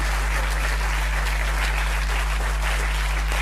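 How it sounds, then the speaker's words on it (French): An audience at a political party federal council claps for human rights observers and parliamentarians, giving a continuous, fairly loud wash of applause with a low steady hum running beneath it. "Nous allons applaudir les observateurs de la LDH sur place."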